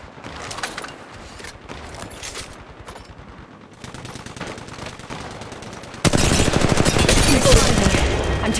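Weapons firing in Apex Legends Mobile, with bursts of automatic gunfire that grow denser and much louder toward the end, the rapid shots rattling close by over steady game sound.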